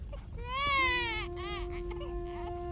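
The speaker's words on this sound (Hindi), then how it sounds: "बच्चे की रोने की आवाज तो मेरे आंगन से ही आ रही है" An infant wails in a cartoon, delivering a close, rising cry followed by a second shorter sob and then a long, steady whining tone, heard on its own without talk.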